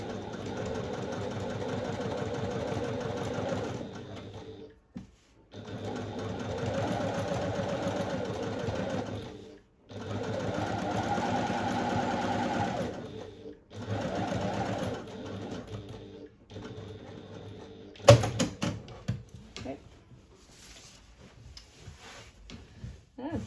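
A sewing machine stitches fabric in several long, steady runs broken by short pauses, with a soft rattling tick throughout, followed by some handling clatter at the end.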